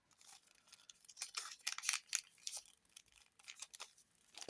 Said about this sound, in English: Hopefully your scissors will be strong enough to go through this.